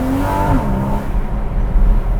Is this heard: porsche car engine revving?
yes